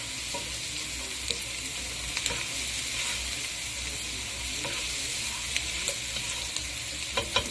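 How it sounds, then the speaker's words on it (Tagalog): Onion and garlic sautéing in hot oil, a steady close sizzle and fry with occasional soft stirring scrapes, no speech. "Itong version natin na to, ginisa natin ating sibuyas tsaka bawang."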